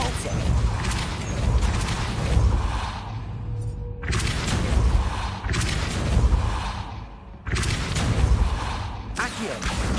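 Depulso repelling spell cast in the video game Hogwarts Legacy, whooshing magical bursts with mechanical rumbles arriving in three loud waves, separated by brief drops in sound.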